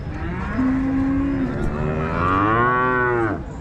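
A six-month-old black Holstein Friesian heifer calf at a cattle market gives a single long, drawn-out moo, loud and close, rising and wavering in pitch before cutting off.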